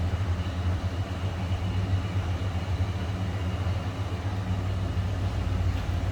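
A 1987 Ford F-150 XLT Lariat 4x4 pickup truck's engine runs at a steady idle from the exhaust end, a low continuous rumble with no revving, through a stock exhaust.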